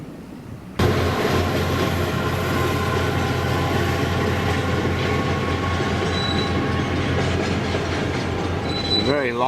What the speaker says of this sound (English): It's a very long train.